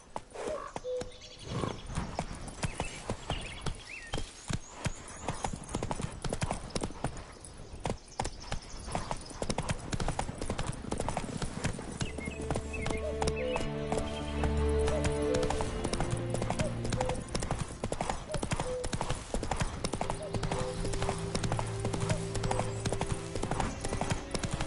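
Horse hooves clip-clopping in The Witcher 3, a steady trotting rhythm over outdoor ambience with occasional bird chirps and a rising music-like tone in the second half.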